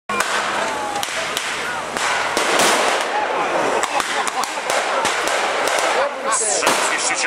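Tank destroyer gun fire rings out in a battle scene as repeated sharp, loud cracks and bangs over a dense, noisy background.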